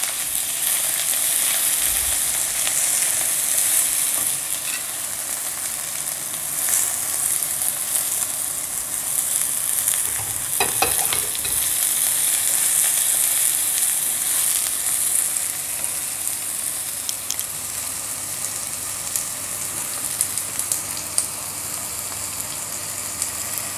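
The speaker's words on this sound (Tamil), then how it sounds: "வெங்காயம் வதங்கிக்கிட்டே இருக்குது." Sliced onions sautéing in a pan with bay leaf for palak biryani, a steady moderate sizzle running throughout with occasional stirring clatter, no talk.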